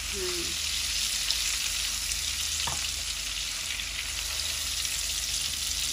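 Shrimp sizzling and frying in a hot pan, a steady crackling hiss running throughout with a brief scrape of stirring partway through.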